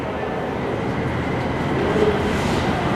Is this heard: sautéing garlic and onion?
no